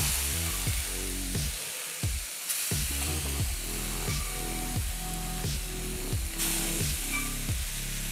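Black ghost pepper noodles fry in a hot pan with a steady, close sizzle that runs the whole time, broken by repeated low thumping pulses.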